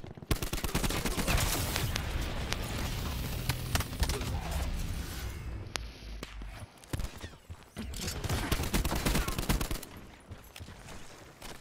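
Rapid bursts of gunfire from Black Ops 4 multiplayer crackle densely and loudly, with automatic volleys and single shots, a brief lull midway and then more firing.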